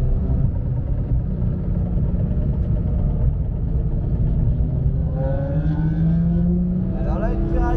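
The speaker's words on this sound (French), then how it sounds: "Alors là, une Ferrari F430." Ferrari F430 passing on the Le Castellet circuit during a trackday, its engine note rising near the end over a constant loud rumble of traffic and wind, with a voice talking throughout.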